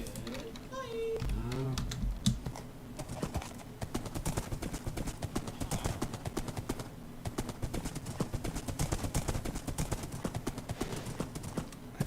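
A horse in Minecraft clip-clops steadily, rapid hollow hoof taps running through most of the clip after a brief whinny-like call near the start, with a voice heard briefly.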